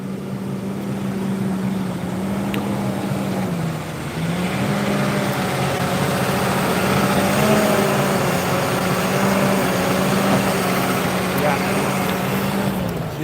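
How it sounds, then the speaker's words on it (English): A tractor engine tilling and grading a field drones steadily at a low, even pitch, briefly dipping before settling back into a constant working rumble. "There's that tractor again."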